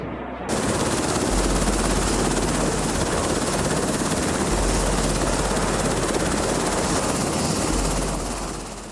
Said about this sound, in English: Blackhawk helicopters have an uncanny ability to reach hard-to-reach locations